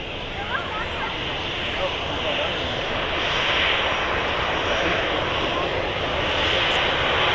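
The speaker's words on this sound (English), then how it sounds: "the RB211s on that 757 sounding lovely" A Boeing 757 with Rolls-Royce RB211 engines takes off at Manchester Airport, giving a loud, sustained roar with a bright whining edge that swells slightly and holds steady across the stretch.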